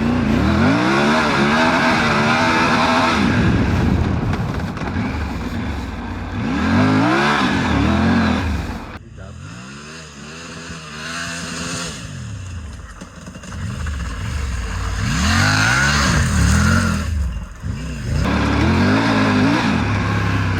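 Himalayan 450 and Tiger 900 Rally Pro motorcycles ride past with loud engine revs that rise and fall, going through surges of acceleration and quieter stretches. The sound is continuous and close, and no one speaks.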